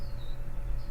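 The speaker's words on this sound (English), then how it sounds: "There's a noisy bird outside chirping right now." A bird chirps faintly outside in two short, high calls separated by a pause, over a steady low background hum.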